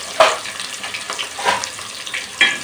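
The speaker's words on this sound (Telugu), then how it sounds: "దీంట్లో ఇప్పుడు ఆనియన్స్ వేద్దాం." Onions frying in a hot pan for chicken pulao, loud crackling sizzle with several bursts of stirring and scraping spaced through the clip, close up, with no talk.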